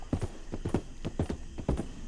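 Horse hooves clip-clop at a steady walking rhythm in Red Dead Redemption 2, close and moderately loud, with no talking.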